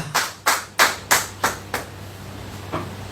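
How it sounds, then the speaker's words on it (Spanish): A church congregation claps, with about seven distinct, fairly loud claps in an uneven rhythm that grow fainter toward the end. "puedes darle un aplauso"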